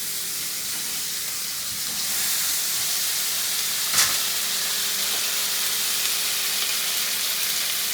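Burger patties sear in a pan on a stove, giving a steady, loud sizzling hiss that holds throughout and swells slightly partway, with a short sharp crackle near the middle.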